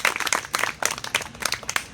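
An audience at a Baramati taluka literary convention claps to welcome a guest, a brief burst of scattered, fairly close applause with uneven individual claps.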